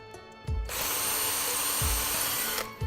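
A power drill whirs loudly and steadily, boring into wood for about two seconds, with faint knocks before and after.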